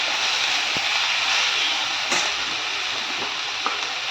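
Capsicum sautéing in a hot pan gives a steady, loud sizzle throughout, with a few faint clicks from stirring.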